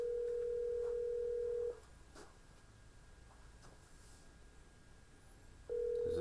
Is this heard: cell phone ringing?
yes